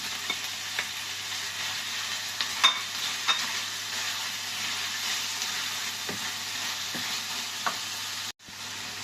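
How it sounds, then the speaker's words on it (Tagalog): Tomatoes frying in a pan for a beef and vegetable stir fry make a steady close sizzle, broken by a few light stirring clicks and a brief pause near the end. "Ilagay po natin ating kamatis."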